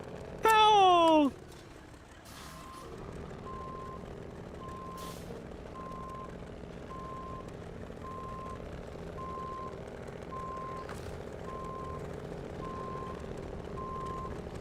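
A truck in SnowRunner idles with a steady low engine drone while a reversing alarm beeps at an even pace, after a brief loud horn-like blast at the start.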